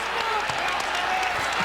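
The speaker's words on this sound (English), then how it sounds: "With the crowd roaring, Dalron Johnson sneaks down low." Basketball arena crowd at a college men's game between UNLV and Wyoming on senior night, a steady broad roar of many voices filling the whole moment, loud and continuous with faint court thumps and a commentator talking over it.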